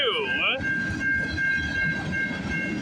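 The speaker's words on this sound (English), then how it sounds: "Symbol on this train is CN M382." A CN freight train, symbol M382, running from Toledo, Ohio to Toronto's MacMillan Yard, rolls past on a snowy March morning with a steady, loud rumble and rail clatter. A sustained high whistle-like tone rides over it, with brief chirps at the start.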